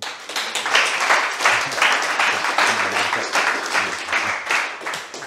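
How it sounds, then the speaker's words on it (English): A tech conference audience at a Web3 infrastructure event gives a steady, full round of applause for the next speaker, dense continuous clapping throughout with faint voices mixed in. "please give a big round of applause to Adam."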